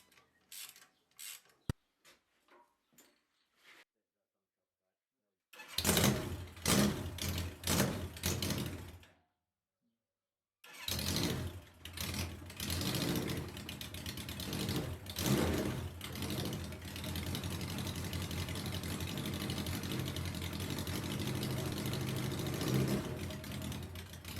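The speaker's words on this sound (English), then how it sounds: "After all, I am very pleased I got the bike started up." A Suzuki GS1100G motorcycle engine: a few faint clicks and knocks at first, then a loud rough idle that cuts out briefly, restarts and keeps running steadily, close by.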